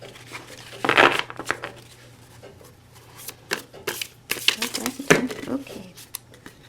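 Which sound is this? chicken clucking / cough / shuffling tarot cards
shuffling tarot cards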